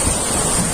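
Water flowing downhill through a park, heard as a dense, steady rushing wash with wind-like roar, loud and unbroken for under a second.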